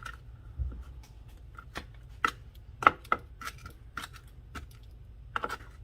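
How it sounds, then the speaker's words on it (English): A knife chops cilantro on a cutting board in irregular, crisp taps, close up and fairly soft, with no talking. "I'm going to cut up some cilantro."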